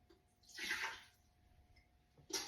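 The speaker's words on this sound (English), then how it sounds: "I'm adding the water." Water is poured briefly into an Instant Pot fitted with a trivet, a short splashing burst lasting under a second, followed by quiet and a small clatter at the end.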